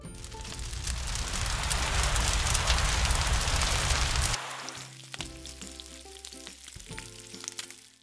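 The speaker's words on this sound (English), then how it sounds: "Extinguish the barrel fire." Toy-scale barrel fire in a Playmobil firefighting play scene being doused by a water spray, a loud continuous hiss lasting several seconds, then cutting off to quieter clicks and clatter.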